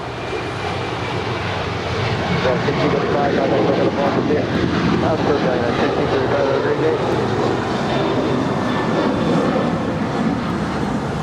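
United Boeing 737-900ER jet departing LAX runway 25 right for Washington Dulles: a loud, steady engine roar close by, swelling slightly, with air traffic radio chatter underneath.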